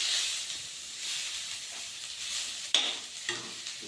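Bhaji saag greens sizzle in a hot pan while being stirred, a soft continuous hiss with a few sharper scraping clinks near the end, close and fairly quiet.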